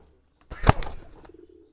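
A restless female racing pigeon flaps its wings in a short, close burst of fluttering beats that quickly fades, with a soft coo afterward in an otherwise quiet space.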